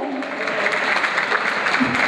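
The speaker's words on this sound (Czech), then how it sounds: "ještě si zatleskáme" A crowd at a country dance ball in Drásov claps together, a short dense burst of applause filling the room before the band starts playing.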